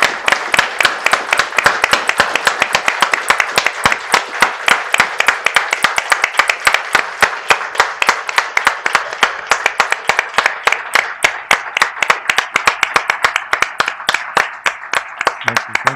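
Sustained audience applause after a commemorative talk at a society event, dense rhythmic clapping from a sizable crowd continuing loud and unbroken for many seconds, with faint voices mixed in.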